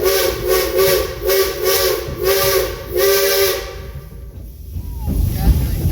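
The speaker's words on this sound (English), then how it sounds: "Engineer Rick and Bob, what you blowing the whistle for, son?" A train's steam whistle blows in about four short, loud blasts in even succession. A hiss and low rumble follow once the whistling stops.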